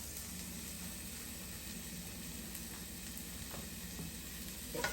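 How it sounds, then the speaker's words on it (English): Green peppers, onions and green onions sizzle steadily in a frying pan, a continuous close hiss with faint scraping near the end. "Just put them in the pan here."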